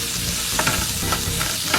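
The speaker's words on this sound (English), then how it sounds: "Give that a little stir." Onions are stirred in a roasting tray for beef brisket, giving a continuous loud sizzle with a few scraping strokes of the spoon, close and without talk.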